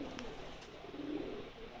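A Pakistani Sharmeela pigeon gives soft, low coos close by for a moment, faint against quiet background murmur.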